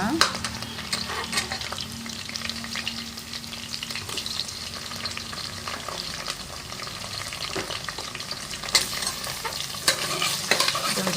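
Chopped tomato frying in a pan while being stirred for a vegetable bath dish. A steady close sizzle runs throughout, with scraping spatula strokes and occasional clinks against the pan, and nobody speaks.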